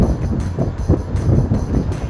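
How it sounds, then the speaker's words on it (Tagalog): Strong wind buffets the microphone in loud, rumbling gusts, a continuous roar that rises and falls with no voices. "Malakas na hangin."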